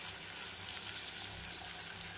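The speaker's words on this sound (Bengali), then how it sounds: "এবার আমি টমেটোটা পেঁয়াজের সঙ্গে ভেজে নেব।" Tomato frying with onion in a pan, a steady loud hiss and sizzle without pause, heard up close.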